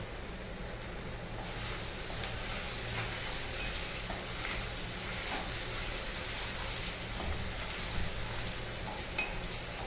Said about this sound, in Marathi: थोडं फ्राय करून घ्यायचं लसूण अद्रक.